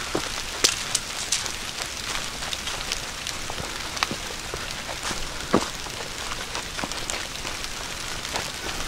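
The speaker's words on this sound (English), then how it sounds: "And it's raining again." Steady rain patters on a hiking trail along the Appalachian Trail in Pennsylvania, with a dense wash of drops and occasional sharper splats close by, no voices.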